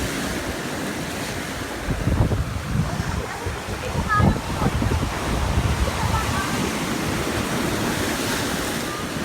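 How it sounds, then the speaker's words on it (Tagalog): Big ocean surf at Diguisit, Baler, Aurora, Philippines roars and crashes nearby with heavy wind buffeting the microphone, swells rising in a couple of louder surges. "sabi mo kasi i-show mo yung malaking alon."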